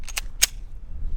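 Two quick metallic clicks followed by a sharper snap as a pistol's ambidextrous charging handle is pulled back and released, close up and brief.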